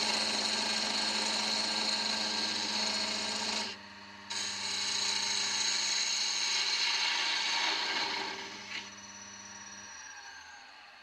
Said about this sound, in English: mount the top in the chuck and trim the face